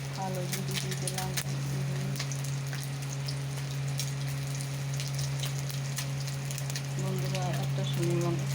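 Cumin, black cumin and panch phoron spices sizzle in hot oil, giving a steady fine crackle with scattered pops over a low hum, and a voice talks over it.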